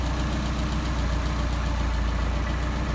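An engine on a Solex 44PHH carburetor runs at a close, steady idle, with a loud, even, throbbing rhythm that continues unbroken.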